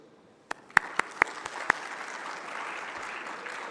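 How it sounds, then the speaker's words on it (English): Conference audience at a water-systems session on nature-based solutions applauding the speakers: a few sharp isolated claps first, then steady, moderately loud clapping from a crowd filling the room. "I would like to ask from you to applaud with me the speakers for the shared experiences and results"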